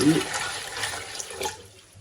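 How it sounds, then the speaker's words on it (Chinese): Clean water being poured into a steamer pot, a close, rushing splash that is strongest at first and tapers off over about two seconds. "接下来蒸锅里面倒适量的清水"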